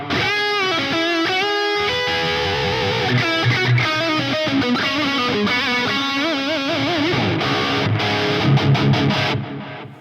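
A heavily distorted electric guitar lead tone from a Quad Cortex plays a sustained line with bends and vibrato, loud and saturated, continuing without pause.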